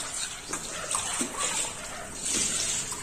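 Water from a hose pipe pours into a pool with a steady hissing, splashing rush, fairly quiet and continuous with small fluctuations.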